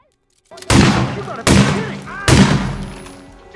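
Three loud, booming gunshots ring out in the Hitman 2 video game, fired during the New York bank mission and spaced under a second apart, each with a long reverberant tail.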